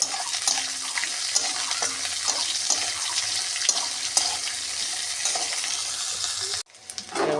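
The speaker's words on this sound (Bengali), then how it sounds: "পেঁয়াজটা খুব ভাজবো না, আধা আধি ভাজবো।" Onion frying in a pan gives a continuous loud sizzle with occasional stirring clinks, cutting off abruptly near the end before resuming.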